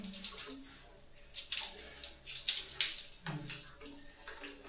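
Running water rinses a dog during an at-home bath, a close splashing stream that rises and falls as it pours over the fur.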